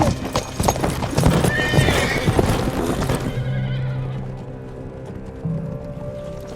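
Horses' hooves clip-clop steadily on a road, with a horse neighing, for a royal party setting out on a two-hour ride to a shrine; the hoofbeats are loud and busy at first, then thin out and fade.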